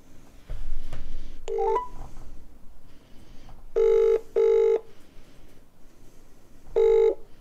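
A recorded phone call begins with a few quick dialing tones, then a telephone rings in evenly spaced electronic bursts, two close together and a third after a pause, with faint background hiss and no voices.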